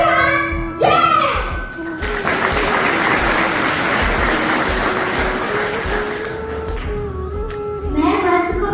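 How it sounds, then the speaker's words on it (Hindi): Audience applause for the youngest poet at a Hindi Day poetry recitation organised by a Jain school: a sustained wash of clapping and crowd noise lasting several seconds, with voices at the start and end. "सबसे ज्यादा गुलाब की तालियां आप इनकी झोली में डालिएगा"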